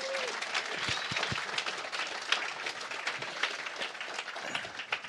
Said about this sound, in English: Let's give these companies a giant round of applause.